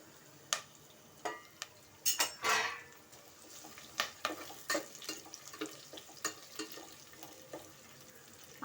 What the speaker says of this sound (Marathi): छान ब्राऊन रंग येईपर्यंत मस्त असं परतून घेते कांदा टॅमॅटो